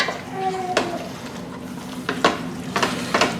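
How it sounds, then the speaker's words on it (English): A spoon stirs roux in a pan for shrimp and grits, with scraping strokes and clinks against the pan over a low sizzle, repeated several times close by, with no voice. "See all that stirring in there and picking up that roux and stuff off the bottom of the pan?"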